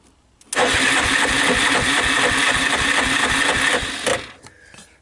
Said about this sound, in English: Starter doesn't sound great, does it?